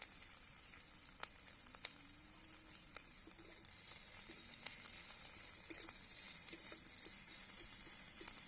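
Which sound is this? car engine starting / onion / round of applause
onion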